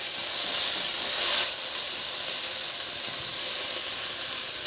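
Tomato dropped into a hot pan of sautéing garlic and onion for pork pochero, giving a steady, loud sizzling hiss that swells briefly near the start and then settles into a constant fry.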